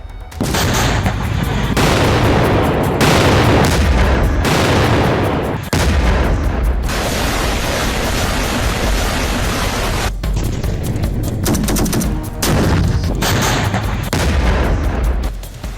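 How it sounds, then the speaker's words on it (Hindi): Dense explosive strikes and gunfire during Israeli attacks on Gaza, a continuous loud barrage of blasts and shots with brief pauses, no talk. "इजराइल के बारूदी प्रहार से गाजा फिर कांप उठा।"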